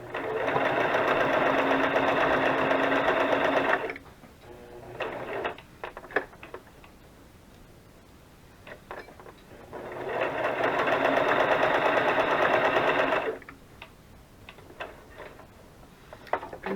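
A sewing machine stitches embellishments on burlap and lace crafting material in two loud, steady whirring runs of several seconds each. Quieter handling clicks and taps fill the pause between them.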